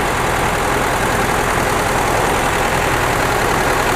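A 1964 Mercedes-Benz 190 with a small four-cylinder engine runs steadily, a loud, continuous broadband engine drone close by with no break in level and no talk.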